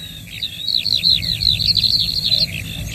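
Several ground-nesting birds sing on open spring moorland of rough grassland, rushes and gorse in the Brecon Beacons, a run of quick bright chirping phrases close by over a low steady wind-like rumble.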